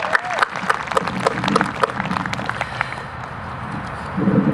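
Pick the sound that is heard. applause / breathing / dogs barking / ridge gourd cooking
applause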